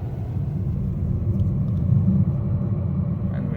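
Volkswagen ID.3 electric car driving on a road near the Norway–Sweden border, giving a steady low rolling rumble of tyres and cabin drone, continuous and even throughout with no talk.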